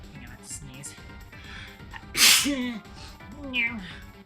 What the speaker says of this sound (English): Hang on, I have to sneeze.